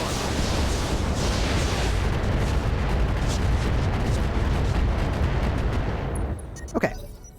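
Barrage of medium-range missiles launched at a Typhoon mech in the RogueTech game, a dense, sustained roar of rocket fire and blasts that cuts off near the end, followed by a brief sharp burst.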